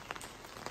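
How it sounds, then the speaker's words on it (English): Rain falling in a narrow alleyway of the historic centre of Monopoli, Italy, a soft, steady patter heard faintly and briefly, with no talking. "It is officially raining here"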